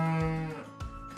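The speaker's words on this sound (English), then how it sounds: "Yes, a cow." A single cow lets out a loud, close moo with a falling pitch, followed by a short second grunt.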